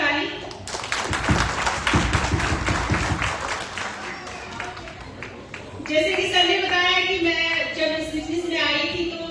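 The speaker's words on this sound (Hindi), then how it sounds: "पहले तो आप सबके लिए एक जोरदार ताली।" A Delhi recognition event audience bursts into loud applause, dense clapping filling the hall for several seconds before fading under a voice addressing the crowd.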